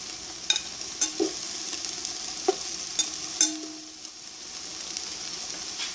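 Roughly chopped garlic cloves sizzling and being stirred in a frying pan for an okra tomato stew, with a steady frying hiss and a few sharp scrapes and clicks of a utensil against the pan.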